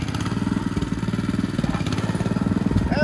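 A tractor driven through a flooded paddy for rice transplanting in Gorkha, its engine chugging in a fast, even throb, loud and near, with the rhythm tightening briefly toward the end.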